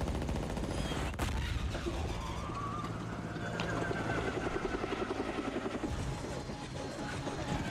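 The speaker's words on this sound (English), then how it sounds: "Strongest fucking helicopter in the game." Helicopter in the video game Saints Row, its rotor and engine droning continuously and fairly loudly with a pulsing beat, mixed with game gunfire and other in-game noise.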